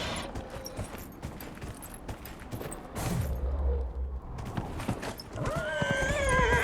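Rhythmic horse hoof clip-clop under a busy, layered Dragon Age: Inquisition game soundscape, with a deeper rumble midway and a rising tonal flourish near the end.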